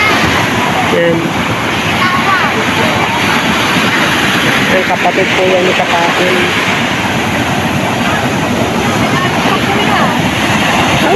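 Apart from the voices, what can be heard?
big sea waves near a boat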